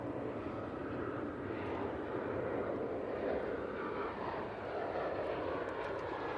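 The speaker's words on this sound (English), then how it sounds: "British Airways next arrival. It's A320 in from London Heathrow." A British Airways Airbus A320 lands at Manchester Airport after arriving from London Heathrow, giving a steady, moderately distant jet engine rush that swells slightly mid-way and carries on without talk.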